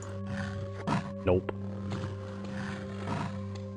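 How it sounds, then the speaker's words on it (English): Low orc growls and snarls in The Elder Scrolls II: Daggerfall, a few short bursts mixed with game ambience, while a person speaks briefly over them. "That's the sound of orcs"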